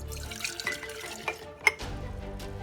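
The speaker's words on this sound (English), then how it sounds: "Start off with about a cup of hot water. Pour it into a jar or a container of some sort." Hot water is poured into a jar in a steady liquid stream with a few small clinks and splashes, heard close up without speech.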